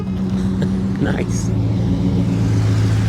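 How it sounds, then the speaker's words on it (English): A 2017 Jeep Wrangler Brute with a Hemi V8 engine drives past with a deep, steady, loud rumble that lasts throughout. A person says one short word over it. "I've never heard a Jeep sound like that."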